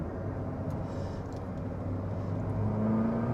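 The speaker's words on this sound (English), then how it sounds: "And there's the induction sound." A 24-year-old Ford Puma 1.7 accelerates in second gear, its intake induction noise a steady rising engine drone heard from inside the car, gradually swelling in loudness with no talking.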